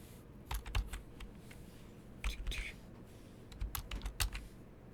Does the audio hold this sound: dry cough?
no